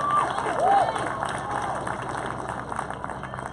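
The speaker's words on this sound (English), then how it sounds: "So would you give Mr. Obregon a big round of applause?" Audience at a Class of 2018 graduation ceremony clapping and cheering for a teacher, a moderate crowd sound with a few whistles and voices mixed in, steady through the moment.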